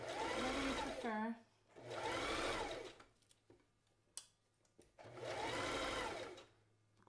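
A sewing machine stitches fabric for a kids' newsboy hat in three steady whirring runs, separated by quiet gaps with small handling clicks.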